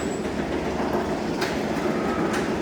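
A roller coaster train (Rougarou at Cedar Point) rumbles steadily along its track with a continuous rolling roar and faint rhythmic clatter, fairly close, with no voices.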